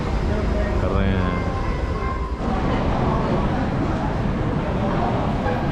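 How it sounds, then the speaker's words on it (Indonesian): Singapore MRT underground train running between Bugis and City Hall, a loud continuous rumble and rail roar filling the whole clip, with faint voices underneath. "sekarang saya mau naik MRT dari Bugis pergi ke Orchard ya"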